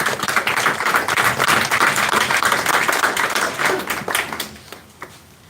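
Crowd applause at a Memorial Day picnic in Havelock, a dense steady wash of many hands clapping for several seconds before tapering off near the end.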